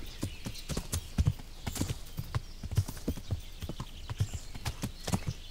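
Horse hooves clip-clop at a steady galloping rhythm in the medieval video game Kingdom Come Deliverance, close and distinct, with a faint whinny and no talk over them.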